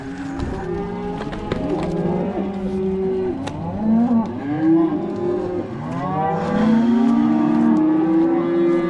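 Weaning calves, heifers and steers, bawl repeatedly on a farm, overlapping moos from several animals close by and farther off, with a vehicle engine running underneath.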